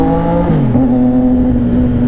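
A CFMOTO 675NK motorcycle fitted with a full system exhaust revs loudly at close range, its engine pitch dropping and then settling into a steady, deep droning hum.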